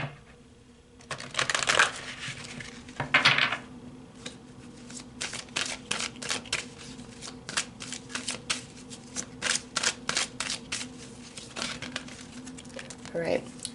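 Tarot cards are shuffled close up in rapid, crisp riffling bursts and soft card slaps, continuing in irregular flurries with brief pauses between them.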